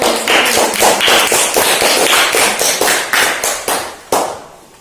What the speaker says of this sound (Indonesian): Teman-teman, mari kita berikan tepuk tangan untuk teman.